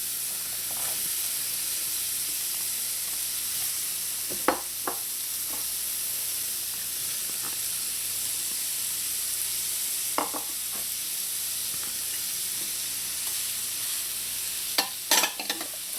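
Mixed vegetables stir-frying in a hot wok, a steady sizzle and hiss broken by a few sharp scrapes and clatters of a spatula tossing the food.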